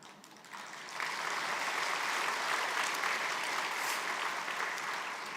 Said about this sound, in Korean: 박수 소리가 좀 약하신 것 같은데.